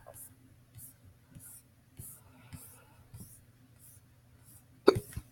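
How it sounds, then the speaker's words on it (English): Soft, quiet hiccups repeat at a steady pace about every second, close to the mic, ending with a sharper, louder one. "Oh, I have the hiccups."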